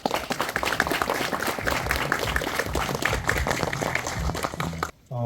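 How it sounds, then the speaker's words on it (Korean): An audience claps to welcome a professor at an offline science lecture series in Korea, a dense, steady wash of clapping that stops abruptly just before the end. "큰 박수로 맞아주시기 바랍니다."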